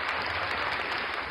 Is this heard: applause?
yes